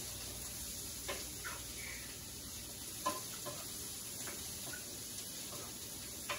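Beans with onion and spices cooking in a pan, a faint, steady sizzle with occasional light clicks and taps of a spoon stirring, no voices.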